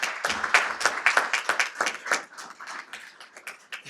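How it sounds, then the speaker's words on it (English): A small audience at a legislative meeting applauds a championship wrestler: sparse, distinct claps from a handful of people, sharp and fairly close, rising and dipping in irregular bursts over several seconds. "That deserves another round of applause, I think."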